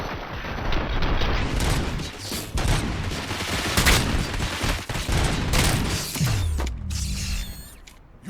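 Gunfire in RoboCop: Rogue City, a dense, sustained clatter of shots mixed with mechanical noise over about seven seconds, ending in a low rumble and quieter tail.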